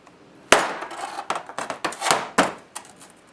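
A hammer taps a screwdriver or other metal object to peen over the end of a transmission shaft from a D16 gearbox during a rebuild. Roughly a dozen sharp metallic knocks come at an uneven rhythm, close and clear.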